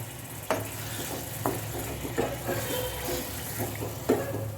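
Chicken egg roll filling sizzles in a pan under a steady low hiss, with about five sharp spatula scrapes and clacks spaced irregularly as it is stirred, close up and without talk.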